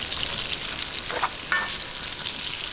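Onions fry in rendered pork fat for pinakbet, a bright, steady close sizzle with a few brief stirring clinks and no voices.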